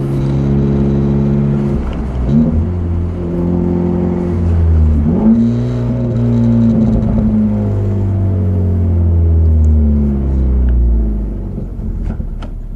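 A Ford Focus sedan with a swapped ST engine runs for its first time, a loud close engine rumble that rises and falls through several revs and then settles into a steady idle.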